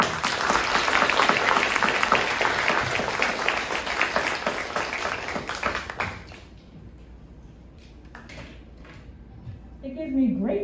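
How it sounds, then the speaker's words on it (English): Audience applause at a school promotion ceremony for a student music group, loud sustained clapping for about six seconds that fades away, followed by quieter room noise, light tapping and handling sounds. "Let's give them one more round of applause."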